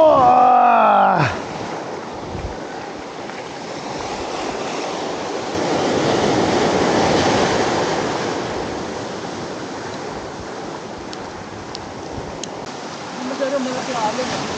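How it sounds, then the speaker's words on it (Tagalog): Big sea waves on the coast at General Nakar surge in a continuous roaring wash of surf that swells loudest midway, with a short voice near the start. "Masyado malaki ang alon."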